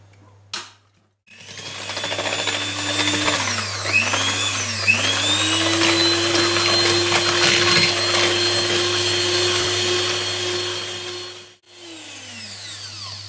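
Electric mixer whipping egg whites to stiff peaks for a white chocolate passion fruit cake, a loud steady whine that shifts pitch as the beaters move, starting after a brief knock and cutting out near the end.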